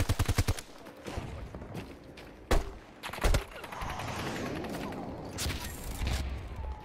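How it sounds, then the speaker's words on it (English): Gunfire in Battlefield 2042: a burst of rapid shots at the start, then two sharp single cracks, followed by a steady noisy battle din with more distant shooting. "Someone else is shooting over there."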